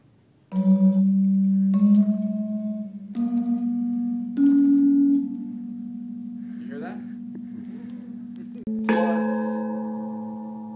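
Gamelan instruments tuned in pairs strike the same notes in turn, each ringing tone shimmering with a slow beating, then a fuller combined strike near the end, close and clear with no talking.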